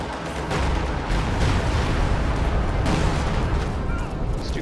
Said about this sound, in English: Stuka barrage landed here.